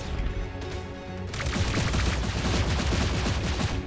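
Rapid gunfire crackles in a MOBA video game tournament match, a dense, continuous burst of shots that grows louder partway through over a busy game soundscape.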